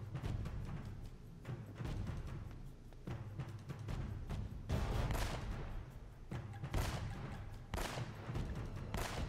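Enemy gunfire in the Uncharted video game, dense overlapping shots and bursts crackling continuously over a rumbling low bed, several louder volleys standing out, no voices.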